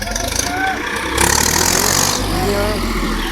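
A small handle-start tractor engine runs steadily with a low, rhythmic chug, rising briefly in intensity midway, with voices talking over it.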